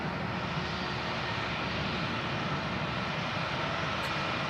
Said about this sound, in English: British Airways shuttle service heading back to London Heathrow.